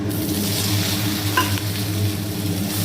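Green chilies, tomato and raw mango sautéing in a pan for mango sambar: a constant dense sizzle with one brief utensil clink partway through over a low steady hum, no talking.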